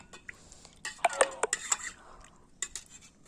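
A spoon clinks and scrapes against a container while ash and tea water are stirred together into plant fertilizer, in a series of close, bright metallic taps and knocks with short pauses between them.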